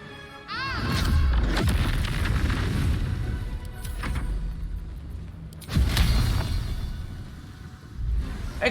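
A fireball spell explodes in the video game Baldur's Gate 3, with a deep booming blast and rumble, then a second heavy impact midway and a further thump near the end, loud and without speech.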